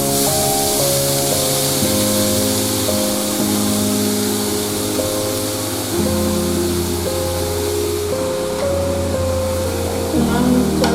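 Onions sizzle in butter in a hot pan, giving a steady, bright frying hiss throughout. Background music plays over it, and no one speaks.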